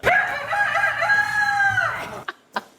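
A man imitates a rooster, belting out a loud, close cock-a-doodle-doo in one long rising and falling call, followed by two short clicks.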